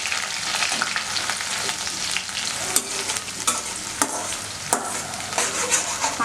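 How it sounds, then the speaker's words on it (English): Chopped onion and curry leaves fry in hot oil in a karai, giving a steady close sizzle broken by occasional louder crackles and spatters, with no talking. "Let us add chopped onion and few chopped curry leaves."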